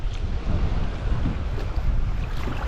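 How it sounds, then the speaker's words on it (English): Waves slap and churn around a fishing kayak on a lake, heard up close with gusty wind buffeting the microphone in a rough, continuous low rumble. "Jeez, waves are getting bigger."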